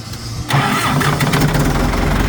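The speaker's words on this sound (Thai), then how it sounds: "ฟังเสียงเครื่องดูครับ" An older diesel tractor engine, six-cylinder 6600, cranks and catches, then settles into a loud, rough, steady running rumble close by.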